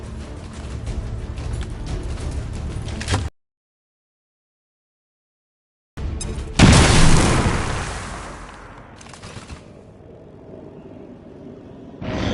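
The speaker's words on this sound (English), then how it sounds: "Grenade!" A grenade detonates in XCOM 2 War of the Chosen: after steady game ambience and a sudden gap of silence, a loud, close boom bursts out and decays into a rumbling tail with lingering debris noise.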